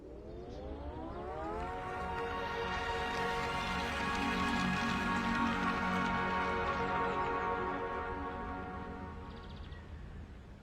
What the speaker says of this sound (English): 500 has the only engine able to play a melody.